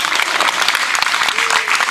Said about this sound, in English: Can we have a round of applause for the sound man who's so good?